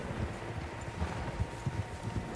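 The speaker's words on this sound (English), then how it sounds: "Horses, quite a few of them." Several horses on hooves in Red Dead Redemption 2, a soft, rhythmic clip-clop of galloping steps, moderately close, mixed with faint wind and rustle, no talking.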